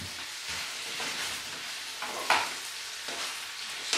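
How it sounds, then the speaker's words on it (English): Venison pieces sizzle and fry steadily in a hot pan while being stirred and turned, with a few louder scraping pushes of a utensil against the pan over the continuous crackle. "Just turn over the meat"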